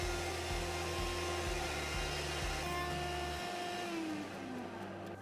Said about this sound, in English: Now let's do the side on the router table.